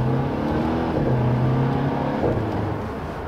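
A Mercedes-Benz C200 AMG with a 2-liter engine accelerates, giving a loud, steady engine drone with a rising tone heard from inside or close by, with no talk.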